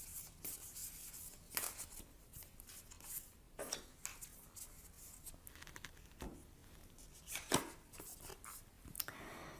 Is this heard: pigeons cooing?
no